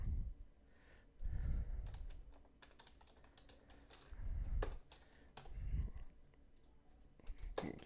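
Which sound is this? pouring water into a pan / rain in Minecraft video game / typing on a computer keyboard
typing on a computer keyboard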